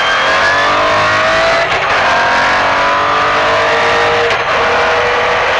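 A Group B rally car accelerates hard out of a chicane, its engine roaring loud and close as revs climb through rising gear pulls, with brief dips at gear changes.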